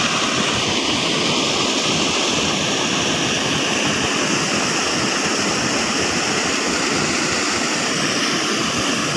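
Rushing water pouring down like a waterfall, a loud, dense, unbroken roar that fills the scene evenly from start to end with no voices.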